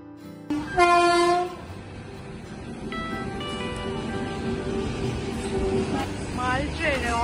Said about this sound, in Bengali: মাল ট্রেনে অনেকক্ষণ ধরে যাবে।